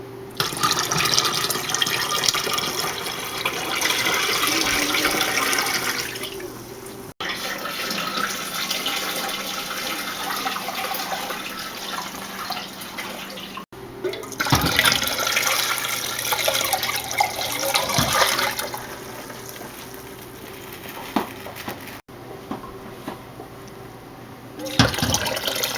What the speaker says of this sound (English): let me get some hot water to pour over these jars